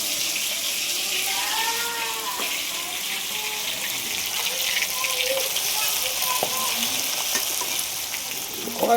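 Spiced country chicken meat fries in a wok, a steady loud hiss and crackle of sizzling oil with scraping stirs, continuing throughout with faint background voices.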